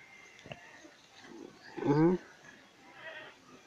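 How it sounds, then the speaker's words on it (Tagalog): A single short bleat from a male goat rises out of faint background noise, fairly close, with quiet rustling before and after. "Nanunuwag po ito guys kasi lalaki siya."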